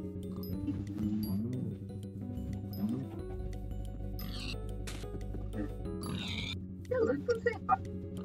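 Minecraft pigs oink in short grunts during play on a SkyBlock map, scattered and fairly faint beneath a person talking steadily.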